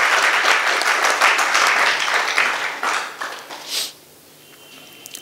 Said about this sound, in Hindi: मैं आपके लिए थोड़ा सा ताली बजाना चाहता हूँ।